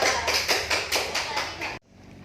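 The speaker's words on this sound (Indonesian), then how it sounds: "Ayo beri tepuk tangan dulu untuk kelompok kedua" Classroom students applaud the second group after its presentation, a short burst of quick, fairly close clapping that cuts off abruptly near the end.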